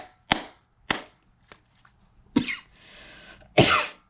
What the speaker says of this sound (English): Excuse me, y'all, if I'm doing a lot of coughing.